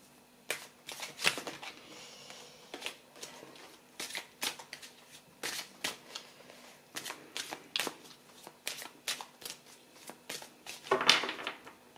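Doreen Virtue oracle cards are shuffled by hand for a reading: a close, steady run of crisp riffling and slapping bursts, with a brighter flurry near the end and no voices.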